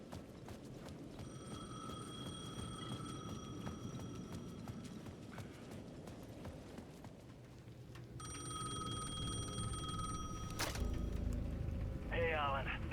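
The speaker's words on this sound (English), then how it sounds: "The payphone at the edge of the plaza was ringing again." Payphone in the video game Alan Wake 2 ringing in repeated electronic bursts, a pause, then ringing again, amid steady ambient game noise and a sharp crack near the end.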